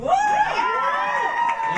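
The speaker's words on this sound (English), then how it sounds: "The applause from the single, naive crowd and mother-in-law" A comedy club crowd at Comic Strip Live cheers and whoops, a steady wash of many voices at close-to-moderate distance, sustained and loud for the whole moment with no single speaker talking.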